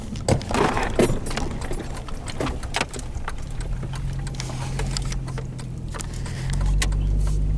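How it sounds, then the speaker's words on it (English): A car travels on the road behind the vehicle, a low engine rumble under cabin clicks and rattles that grows steadily louder toward the end. "Had a car behind me."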